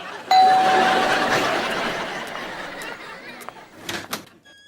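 A doorbell rings at the front door of a home, giving a single clear ringing tone that lasts about a second, followed by softer shuffling and knocking sounds nearby.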